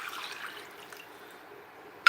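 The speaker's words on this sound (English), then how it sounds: "yes, this is half a liter of water I have just added." Half a liter of water poured into a blender to rinse it after blending Scotch bonnet peppers, a soft watery splash and trickle that fades quickly, heard alone at moderate level.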